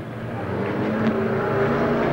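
Crazy car formula racers roaring down the home straight at Long Eaton stadium, a dense, loud wash of several engines droning together and building slightly as they near.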